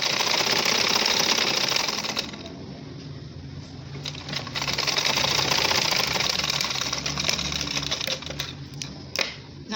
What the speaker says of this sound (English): then I stitch till I get to this end on a straight line